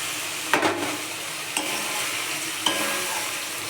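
Paneer dropped into hot spiced oil in a pan, a steady soft sizzle broken by three sharp clinks or scrapes of stirring spaced about a second apart, close and alone without talk.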